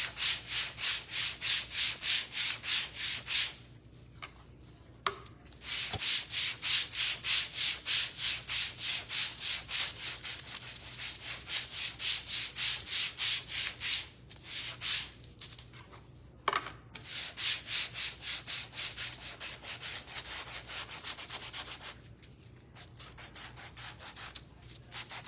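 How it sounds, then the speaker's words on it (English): Sandpaper rubs by hand along the edge of a wooden spindle for a nursery hot air balloon craft, a close, steady rasp in quick back-and-forth strokes broken by a few short pauses. "I'm really sanding the edge."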